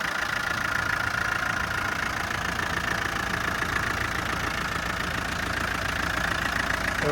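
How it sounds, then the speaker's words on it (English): A 1992 Land Rover Defender 90 with the 200TDi diesel engine idling under the open bonnet, a steady close clattery rumble with a constant even rhythm and no voices. "200 TDI engine here, just doing what it's supposed to."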